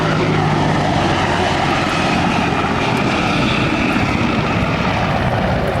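A military aircraft makes a high-speed pass over the runway at a 1997 air show at Quonset Air National Guard Base, a loud, sustained engine roar that stays steady across the whole pass without any talk.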